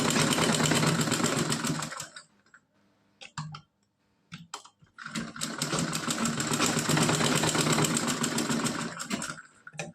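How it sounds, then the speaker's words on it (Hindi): A sewing machine runs a double seam on a net dress, a steady close mechanical whir for about two seconds, a pause with a few short clicking bursts, then a longer continuous run of stitching that fades near the end. "फिर यहाँ से हम डबल कर देंगे सिलाई"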